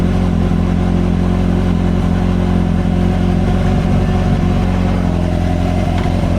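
A motorcycle engine runs steadily just after starting, a loud, close, even idle with a dense low throb and no revving or talking.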